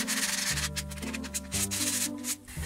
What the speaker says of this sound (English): give it a quick sand with some 60 grit sandpaper just to take off those edges